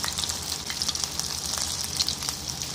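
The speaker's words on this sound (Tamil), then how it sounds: "இப்போ நம்ம வடையை குட்டி குட்டியாக போடுறோம்." Urad dal vada batter sizzles and crackles steadily in hot oil, a close, continuous frying hiss with small popping bursts and no talking.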